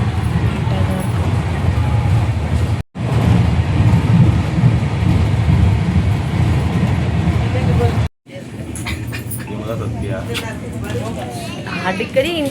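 A passenger train pulling into Dindigul station, heard from inside as a constant loud rumble and rattle of the carriage, broken by two sharp cuts, with people talking throughout.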